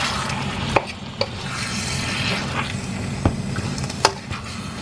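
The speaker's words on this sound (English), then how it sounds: "it's good for you to kind of like separate the ground pork too, so they don't stick together" Spoon stirring ground pork through coconut milk in a pan, a soft continuous scraping and bubbling with a few sharp clicks of utensil against metal, close and steady.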